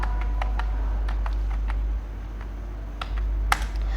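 Keys on a computer keyboard are pressed in a short series of light, crisp clicks at uneven intervals, close to the microphone over a steady low hum, with a louder single keystroke near the end.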